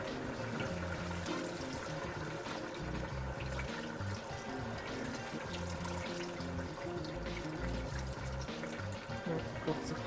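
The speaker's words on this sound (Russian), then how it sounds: "Теперь нам нужно добавить именно холодную воду." Cold water poured from a vessel over rice for plov, a steady continuous pour with a trickling, splashing texture lasting throughout, fairly close, with a low rhythmic rumble underneath.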